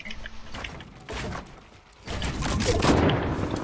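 Bursts of gunfire ring out in a video game during a tense live-streamed match, coming in short volleys with mechanical clatter between them, growing denser and louder toward the end.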